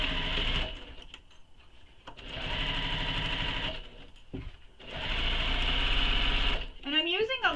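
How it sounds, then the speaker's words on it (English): Sewing machine stitching foam onto the exterior of a handbag, running in three long loud bursts with pauses between, with a short voice at the very end. "I'm going to sew this to the bag or to my exteriors using the seam allowance given in the pattern."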